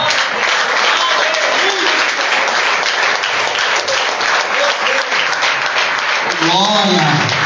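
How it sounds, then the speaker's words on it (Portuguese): Sustained, loud applause from a church congregation fills the whole stretch without a break, with a few shouts and voices mixed into the clapping near the end. "aplauda mais forte, que é para Jesus"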